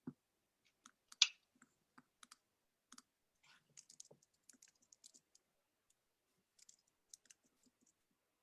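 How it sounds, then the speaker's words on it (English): A new computer keyboard being typed on, giving sparse, quiet, irregular key clicks with short pauses between keystrokes in a silent room. "I'm using a new keyboard"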